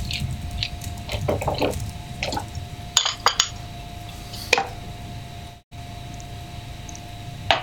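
Small can of tomato sauce tipped into a cooking pot on the stove, with soft liquid glugs and splats, a few light metallic clinks of can against pot, and a low steady background hum.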